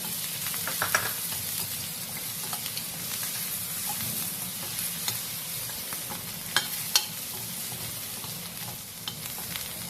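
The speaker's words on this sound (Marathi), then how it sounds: "हे चांगलं अगदी खमंग होईपर्यंत परतून घेऊया" Steady frying sizzle of cashews and nuts in a pan with black salt, with occasional scraping stirs and small pops, fairly quiet, no voices.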